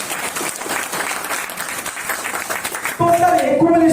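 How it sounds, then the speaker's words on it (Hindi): Applause for silver achievers in a hall, a crowd clapping steadily for about three seconds before a voice and musical tones cut in over the fading claps. "इनके सम्मान में जोरदार ताली हो जाए।"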